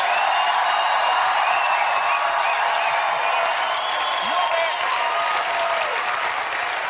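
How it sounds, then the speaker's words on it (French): Steady audience applause for a performer on a comedy talk show, a dense, even wash of many hands clapping that holds at full strength for about seven seconds with no voices on top. "On applaudit Jean-François Barry."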